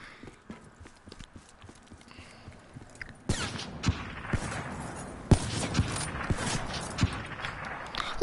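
Gunfire rings out in a first-person shooter game during a 1v1 quick-scope match. Quiet clicking and movement give way to loud, abrupt shot bursts, followed by dense clattering and sharp impacts.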